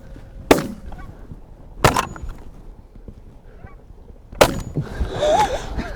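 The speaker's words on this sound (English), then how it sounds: "I like those geese." Geese honk in several loud bursts during a dry field goose hunt, with sharp repeated cracks among the calls and a brief voice near the end.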